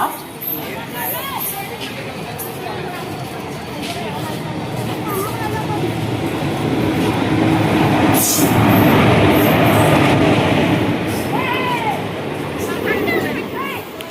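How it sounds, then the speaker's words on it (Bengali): A passenger train rumbles and clatters steadily as it departs Nalhati Junction, the noise swelling midway, with people chatting faintly in the background. "আমাদের ট্রেন ছেড়ে দিল নলহাটি জংশন থেকে"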